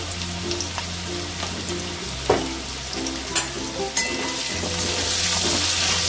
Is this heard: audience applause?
no